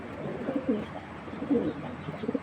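Pigeons coo softly in low, rounded bursts amid steady background murmur, several calls scattered across a few seconds.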